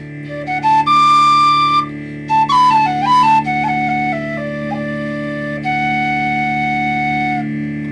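A Weston tin whistle plays a clear, loud melody of sustained notes with quick runs and trills over a steady low hum, solo with no talking.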